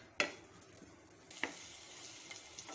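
Chopped onion softening in a hot pan for Kashmiri seekh kabab, giving a soft steady sizzle with a couple of sharp clinks or scrapes from stirring near the start and middle, no voices.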